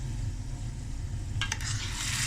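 Mutton pieces coated in masala fry in a hot pan, giving a steady close sizzle under a low hum, with a brief scrape of stirring near the middle.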